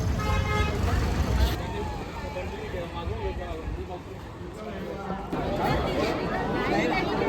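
Crowd at the Sai Sevak palkhi procession on the Shirdi route, a busy outdoor mix of chatter and voices with vehicle horns tooting through it and traffic rumbling underneath.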